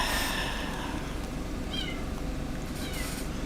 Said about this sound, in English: I hear some meowing underneath my porch, and it won't leave.